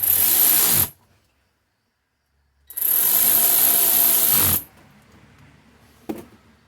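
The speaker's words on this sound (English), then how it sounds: "When I tighten up screws, I like to do an X pattern." A power tool drives screws on a junkyard generator in two loud bursts, one short and one lasting about two seconds, with a near-silent pause between them and a faint knock near the end.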